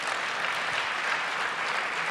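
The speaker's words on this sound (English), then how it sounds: "Help them with a round of applause." Sustained applause from a summit audience welcoming panelists onto a stage, a dense steady clapping that fills the whole stretch without pause.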